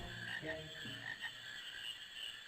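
A frog in the Final Fantasy IX video game croaks repeatedly in a quick, rhythmic series over a steady game background hum, with no voices.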